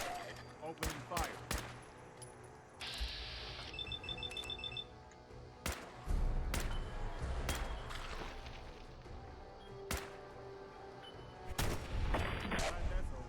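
Gunfire in the video game Fallout 4: a string of sharp, loud shots at irregular intervals, some in quick bursts, with game sounds and electronic beeps between them.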